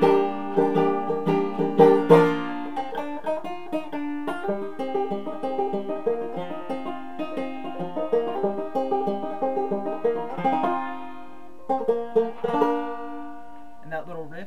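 Bright plucked banjo notes pick out a lively intro to a song, steady strummed rhythm with rolling picking, moderately loud and close, ending in a few scattered notes.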